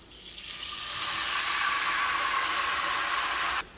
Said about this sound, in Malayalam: പുളിവെള്ളം ചേർക്കുക.